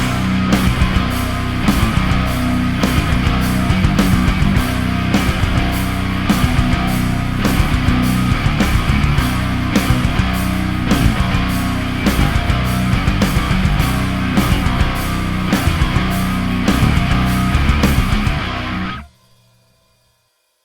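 Heavy distorted metal guitar riff played with a full band, driving drums and bass pounding in a steady chugging rhythm, loud and dense throughout before stopping abruptly near the end.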